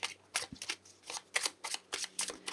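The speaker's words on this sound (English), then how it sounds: "I just want to pull a few cards actually around" Tarot cards are shuffled up close in a quiet room, giving a quick, irregular run of soft riffling bursts and taps with no talking.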